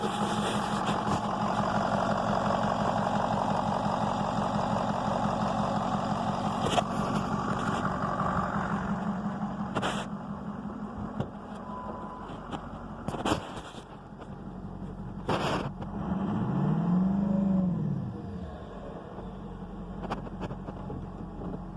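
A 6.0 diesel service truck engine idles steadily with a low, continuous rumble, joined by a few sharp clicks and knocks and one brief swelling tone near the end.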